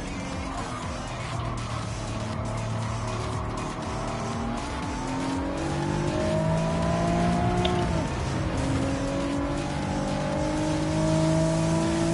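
A twin-turbo race car engine in a racing game holds a loud, steady roar with rising and falling revs as it shifts gears. Tires squeal now and then under the engine.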